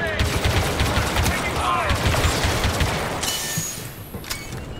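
Blaster gunfire in Star Wars Battlefront 2, a dense, continuous stream of rapid shots and bursts with game effects layered over it, loud and sustained, tapering slightly near the end.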